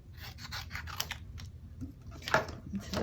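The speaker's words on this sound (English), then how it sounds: "let's put all this stuff through the cut and emboss machine" A paper-cutting and embossing machine working through cardstock with short rasping, scraping strokes in a quiet room, close and fairly soft, with no talking.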